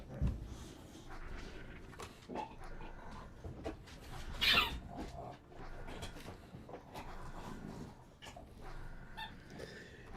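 A dog plays with a squeaky ball indoors, giving scattered short squeaks and soft thumps among snuffling and movement, fairly close and moderately quiet, with one brighter squeak standing out partway through.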